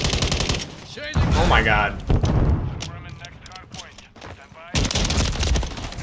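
Shotgun blasts and rapid gunfire from Call of Duty Modern Warfare III multiplayer, heavy and dense at the start and end with a loud booming burst, while a player's voice exclaims and talks over the game sounds.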